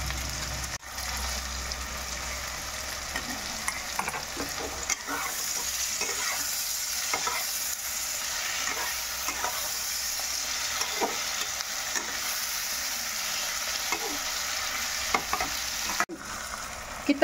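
Onions and tomatoes fry in a pan for a jackfruit and prawn curry. A steady, close sizzle runs throughout, broken by scraping stirs of the spoon against the pan.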